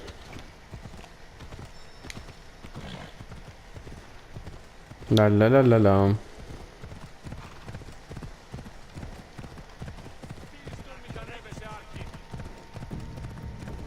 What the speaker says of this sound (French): Mon cheval de course.